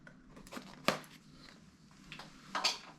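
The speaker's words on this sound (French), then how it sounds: "on va ouvrir le petit scotch." Packing tape on a Xiaomi Mesh System AX3000 router box is peeled and torn, a few quiet rasping rips with sharper bursts near the start and end, close and otherwise hushed.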